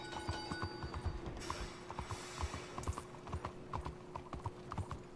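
Steady clip-clopping of horse hooves at a brisk trot in the video game Red Dead Redemption 2, with faint mechanical clanks and rattles behind.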